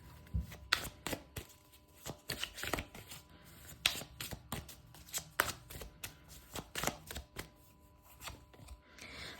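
Tarot cards being shuffled by hand during a career reading, giving a run of crisp, close riffling and slapping bursts in an irregular rhythm, with no talking.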